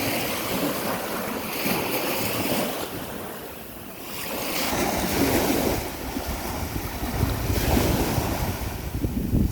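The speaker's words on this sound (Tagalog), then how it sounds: "Nakaka-relax yung alon pakinggan." Ocean waves surge and wash ashore continuously, a broad roar with swelling crests, mixed with wind buffeting the microphone.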